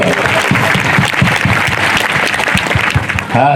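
Audience at a Gorakshanath temple event clapping together in steady, dense applause, loud and near, tapering slightly at the end.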